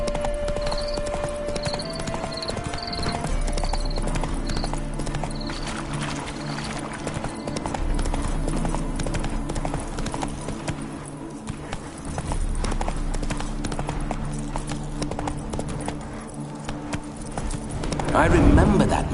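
Roach the horse trotting in The Witcher 3: Hearts of Stone on PS5, a steady clip-clop of hooves under game music and spoken dialogue, with a brief snort or whinny near the end.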